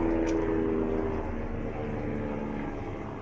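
Police helicopter flying overhead, a loud, continuous low rotor and engine drone that slowly fades as it moves away, with no voices.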